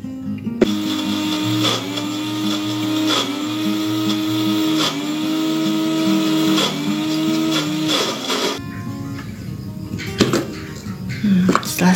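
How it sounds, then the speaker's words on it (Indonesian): An electric blender whirs steadily as it mixes a banana batter with vegetable oil, its motor tone rising and falling in pitch through several loud pulses before cutting off near the end. "Lanjut kita blender kembali sampai semuanya"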